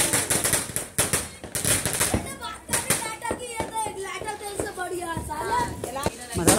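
Diwali firecrackers going off in a rapid string of sharp cracks and pops, then scattered bangs under excited voices of people talking and shouting nearby.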